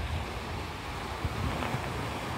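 Black Sea surf at Uchkuevka beach in Sevastopol, Crimea, at a September sunset, with a steady broad wash of waves mixed with wind noise on the microphone, fairly close and continuous, with no voices.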